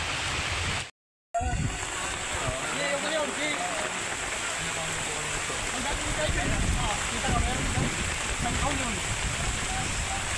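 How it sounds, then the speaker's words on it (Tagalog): Steady rain pours down in a dense, continuous wash while people talk beneath it. The sound cuts out for a moment near the start. "Naabot kami ng ulan."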